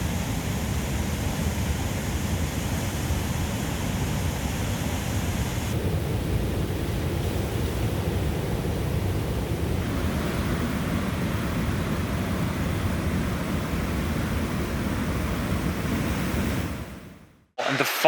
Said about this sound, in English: the falls in itself didn't even look like falls anymore. It just looked like a massive river just going down